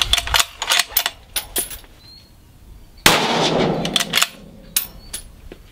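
Bergara LRP Elite rifle shots ring out at a range as a string of sharp, loud reports, with one heavier blast near the middle trailing into a long noisy decay.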